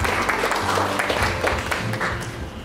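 Audience applause welcoming a guest professor at a Lincoln Nautilus media showcase, a loud, dense burst of many people clapping that holds steady for a few seconds and tapers slightly at the end.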